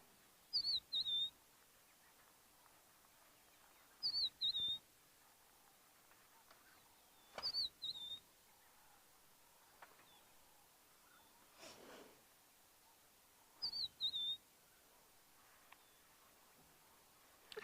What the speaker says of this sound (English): I can hear a lovely bird calling,